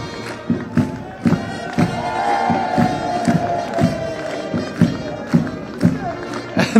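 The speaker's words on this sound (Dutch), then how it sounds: "Wordt met groot applaus ontvangen." A crowd on a packed town square in Heythuysen cheers and shouts as Olympic winners are welcomed, with a steady roar of voices, rhythmic thumps or drumbeats about every half second, and a commentator talking over it.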